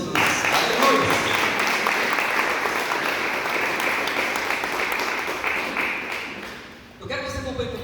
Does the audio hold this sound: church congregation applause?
yes